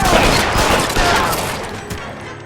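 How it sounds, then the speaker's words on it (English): Sustained suppressing gunfire in the crime video game L.A. Noire, a loud, dense volley of overlapping shots that rolls continuously before tapering slightly, with no talking. "I'll lay down some suppression fire."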